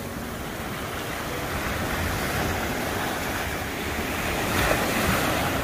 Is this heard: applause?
no